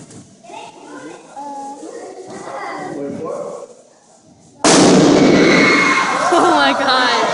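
A very loud indoor fireworks explosion bursts suddenly and stays sustained and roaring, following a stretch of children and adults chattering in a hall.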